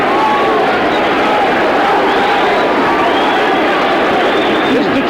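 Dense, steady roar of a Detroit arena crowd at a boxing match featuring Thomas Hearns, sustained cheering and babble throughout with no single voice standing out.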